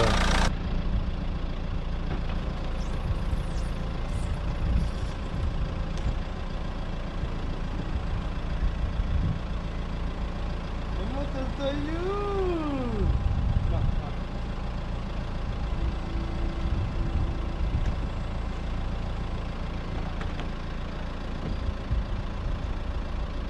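Diesel engine of a Renault Megane 2 1.9 dCi cabriolet idling steadily, a low continuous rumble with a brief rising whine midway, no voices.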